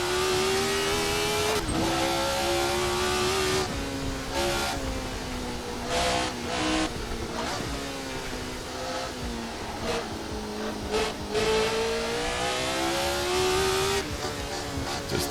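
A race car engine in the Assetto Corsa game revs hard in second gear, a loud continuous whine rising and falling with throttle, broken by brief gear-change and traction dips and occasional tire squeal.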